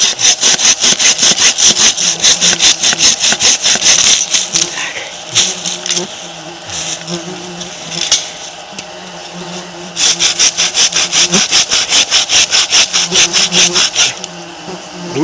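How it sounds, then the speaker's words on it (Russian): A small bow saw rasps back and forth through dry, rotten wood in quick, steady strokes, pausing midway before resuming the same rhythmic cutting, close and loud. "Вот у нас тут есть микропила лучковая"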